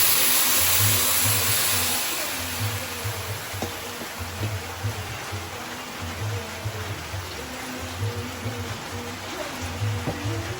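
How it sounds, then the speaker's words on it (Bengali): Stored rainwater is poured into a pot of frying lentils for khichuri, starting with a loud rushing splash and settling into a steady hiss with low bubbling pulses. "আমি এর মধ্যে জলটা দিয়ে দেবো"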